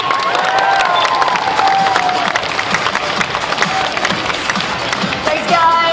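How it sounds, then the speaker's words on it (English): A cosplay championship crowd at a comic convention in Brisbane cheers and applauds loudly, with dense sustained clapping and shouts filling the hall throughout. "so give them a big cheer"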